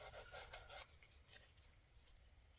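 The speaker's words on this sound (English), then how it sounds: "I find the sanding stick works the best for this kit" Soft, close-up rasping strokes of a sanding stick on a plastic model kit scratch quickly back and forth several times, then continue more lightly, faint and dry.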